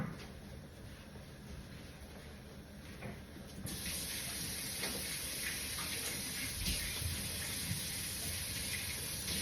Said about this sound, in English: Go ahead on with that dishwater going.